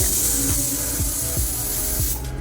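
A pressure cooker cooking chicken biryani whistles, a loud continuous hissing jet of steam heard close up, with faint rhythmic rattling beneath it and no speech.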